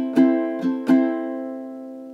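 Three quick strums on a ukulele in a bar from a song, close and clear, the last chord ringing out and slowly fading, no voices.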